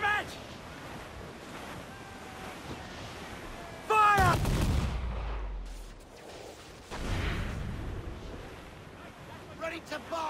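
Ship cannons fire in a pirate naval battle in Assassin's Creed IV Black Flag: two heavy, booming broadside blasts with rumbling tails over constant wind and crashing surf, while voices shout in the background.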